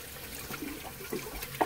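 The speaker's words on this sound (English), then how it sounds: "Let me flush it again and see what happens." A 1955 toilet with a broken, unstable base being flushed, giving a faint, steady wash of running and trickling water with a slight surge near the end.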